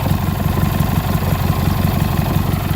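A Cub Cadet 1811 garden tractor's opposed twin engine idles steadily at close range, a low, even, diesel-like chugging throughout with no talk.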